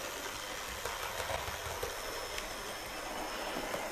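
Roof fan running inside an Accurascale BR class 31 model locomotive, a steady, quiet whirring hum with faint light clicks throughout and no voices.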